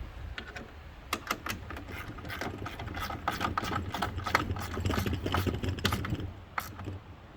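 Screws are driven to fix L-bracket hinges onto an aluminum fence gate, producing a fast, dense run of ticking, ratcheting clicks over a low mechanical hum, close and moderately loud.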